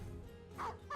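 Dog in the video game Battle Brothers giving two quick, faint yips or barks in close succession over low background tones, with no speech.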